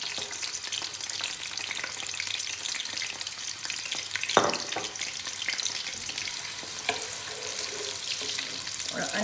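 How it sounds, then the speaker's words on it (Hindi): Sliced onions frying in about four to five tablespoons of hot oil in a pan, a steady loud sizzle with occasional stirring scrapes, close up and uninterrupted by talk. "सबसे पहले मैं इसमें डालूँगी प्याज"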